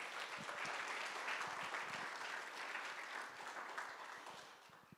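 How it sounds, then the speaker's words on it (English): An audience applauds steadily at a guide dog graduation ceremony, dense clapping filling the whole stretch at an even level before tapering slightly at the end. "give them a round of applause"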